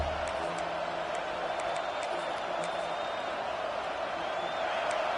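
A home crowd at a football game roars steadily on third down as the defense tries to get off the field, a broad, sustained wash of cheering with no break, heard behind a commentator's voice.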